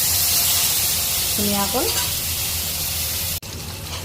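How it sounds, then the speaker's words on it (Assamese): Eel fish frying in hot oil, a steady broadband sizzle running throughout under a brief spoken word and a short melodic tone in the middle. "মই এতিয়া মাছখিনি ভাজি ল'ম"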